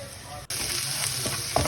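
Finely chopped vegetables seasoned with red pepper flakes and salt sautéing in a pan, a steady loud sizzle after a brief pause, with a spoon stirring and scraping now and then.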